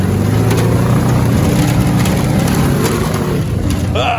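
A VW rail buggy engine drones loudly and steadily, rising a little as it is given gas, with a faint squeal near the end and no voices.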